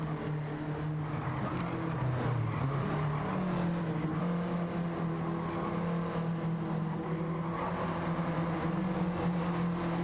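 Several race cars in Gran Turismo 7 run close together, their engines droning and shifting pitch as they jostle, with a faint tyre squeal mixed in. The roar stays loud and continuous throughout.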